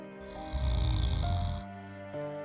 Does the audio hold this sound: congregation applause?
no